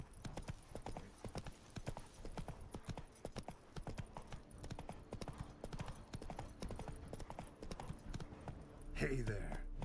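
Hooves of the horse Roach clip-clop steadily in The Witcher 3: Wild Hunt video game, a continuous rhythmic trot under a voice, ending with a louder swell.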